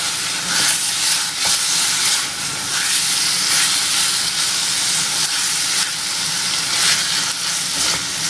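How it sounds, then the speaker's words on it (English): Chicken strips sizzle loudly and continuously in a hot pan, a dense crackling hiss that stays close and steady throughout. "You hear the sizzle, keep your pan nice and hot."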